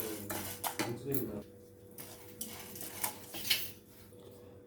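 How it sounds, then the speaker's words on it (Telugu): Toor dal being dry-roasted in a pan on the stove, giving quiet scattered rattles and scrapes of lentils against metal, with a voice speaking over it. "మనము కందిపప్పు వేయించుకుందాం ఫస్ట్"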